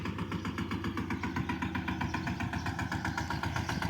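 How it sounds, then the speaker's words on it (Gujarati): A New Holland Simba 20 horsepower mini tractor engine runs steadily and close by in the rain, its throb continuous and even throughout with no talk. "અને મિની ટ્રેક્ટર છે ન્યૂ હોલેન્ડનું સિમ્બા 20 હોર્સ પાવર"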